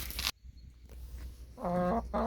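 Chickens cluck and a rooster calls close by in a quiet coop, a short burst followed by rhythmic, throaty clucking.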